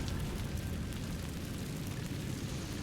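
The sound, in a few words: Incendio fire spell burning spider webs, Hogwarts Legacy video game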